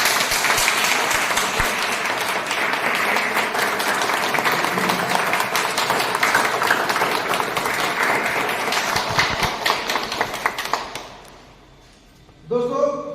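An audience claps hard and continuously at a Hindi health talk, a dense wash of applause that dies away near the end before a brief burst returns.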